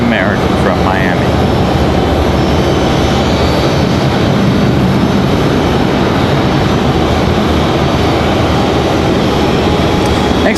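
A United Airlines A319 jet rolls at Raleigh Durham International Airport, giving off a loud, steady engine rumble and roar that fills the whole clip while a voice talks over it.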